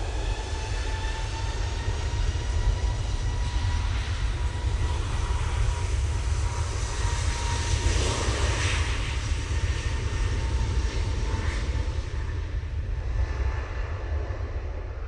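A TUI Boeing 737 MAX 8 jet departs Manchester Airport, its engines a steady, broad roar with whining tones that hold level throughout and ease slightly toward the end, with no talk over it.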